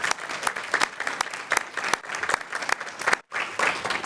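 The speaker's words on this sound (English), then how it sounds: "let us give you a rousing round of applause" An audience at a school board meeting applauds, a dense, even patter of many hands clapping at moderate distance, with a brief gap before the clapping resumes.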